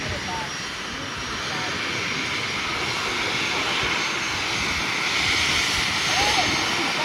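A jet airliner's engines roar steadily at an airport during planespotting, a broad, continuous rush that builds slightly in loudness toward the end, heard at a moderate distance with no talk over it.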